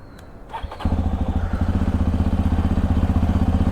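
A Hero Xpulse 210 motorcycle converted to a supermoto is kicked into life after a brief cranking sound, then settles into a loud, steady, rhythmic idle with a throbbing low pulse, heard close up with no voices.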